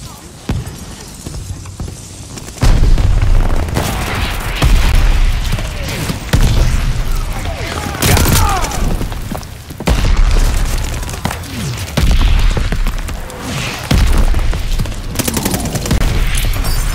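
Grenade blasts and gunfire ring out in a Call of Duty: Vanguard multiplayer match, with heavy booms and bursts of shots repeating every few seconds, loud and close, while a voice shouts in the game.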